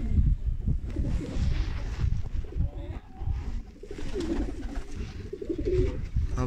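Several pigeons coo close by in low, throaty rolling calls, overlapping continuously with some rustling, at a poultry yard.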